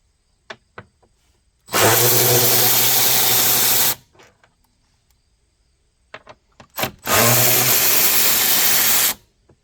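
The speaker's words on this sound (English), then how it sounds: "Next, we're going to take these 2 bolts off right in front here." A power tool whirs in two loud, steady bursts of about two seconds each while bolts come off the front of a car during a headlight upgrade. Small clicks and knocks fall between the bursts.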